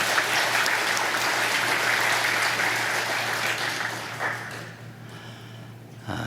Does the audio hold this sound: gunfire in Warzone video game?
no